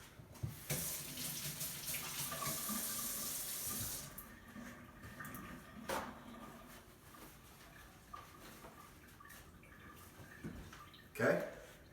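Tap water runs steadily into a kitchen sink while hands are washed beneath it, a broad hiss for several seconds that then drops to quieter splashing and a few sharp knocks near the end.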